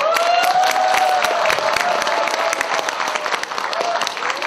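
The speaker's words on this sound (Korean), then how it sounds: "그 자랑을 여러분 함께 박수로 같이 해주세요" An audience applauds steadily throughout, a dense patter of many hands clapping, with a voice speaking over the crowd.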